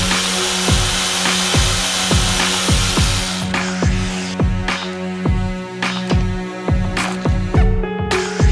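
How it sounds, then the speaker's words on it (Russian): A jigsaw saws through wooden rafter ends in steady repeated strokes, loud and close, with a few short pauses between passes. "вооружившись углом и лобзиком, исправляем этот недочет"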